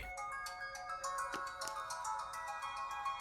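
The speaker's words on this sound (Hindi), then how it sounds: "माँ का फोन है।" A phone ringtone plays a bright, repeating electronic melody, steady and moderately loud, with no talking over it.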